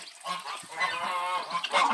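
Farmyard geese honk in a rapid, overlapping chorus of nasal calls, close and fairly loud, continuing throughout without a break.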